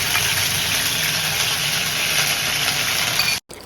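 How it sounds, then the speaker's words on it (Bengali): Onion paste hits hot mustard oil in a pan for a prawn malai curry, giving a loud, continuous sizzling hiss close by that cuts out abruptly near the end. "এরপর গরম তেলের উপরে আমি একটু পেঁয়াজ বাটা দিয়ে দিলাম।"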